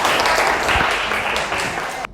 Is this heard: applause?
yes